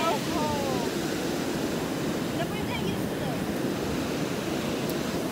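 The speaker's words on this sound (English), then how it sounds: "The waves here are big." Ocean surf breaking on a California beach, a steady, continuous wash of churning water and wind with no distinct individual crashes standing out.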